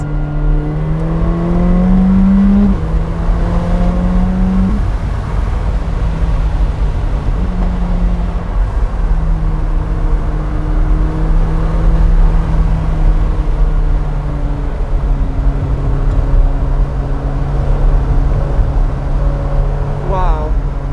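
A 2020 McLaren 620R sports car drives and accelerates on the street, its engine droning steadily with rising and falling harmonic tones as it pulls, loud and continuous throughout with faint talk underneath.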